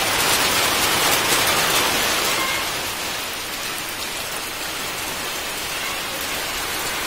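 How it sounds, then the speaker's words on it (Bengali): Heavy rain pours steadily in a dense, even hiss, loud and continuous, easing only slightly partway through, with no voices. "আর এই দেখো কি বৃষ্টি হচ্ছে।"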